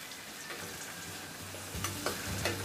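Onion and whole green chillies, slit down the middle, frying in oil for a Tamil cauliflower kuzhambu, a steady soft sizzle with a few stirring scrapes and clicks, close and moderately quiet, no talking.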